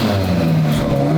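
A 1300 whp McLaren 720 GTR engine revs hard with rolling anti-lag, a loud, close, sustained mechanical roar with a steady drone that holds through the short burst.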